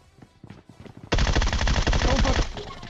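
A gun sprays fire in a shooter video game: after some quiet talk and soft sounds, a loud, sustained stream of rapid-fire shots suddenly erupts and continues close and heavy to the end.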